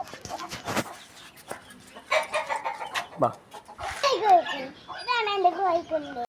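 Chickens cluck, including a hen with a newly hatched chick, in a series of close clucks and peeps, with a voice talking over them.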